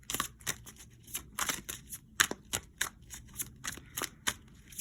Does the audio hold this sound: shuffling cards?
yes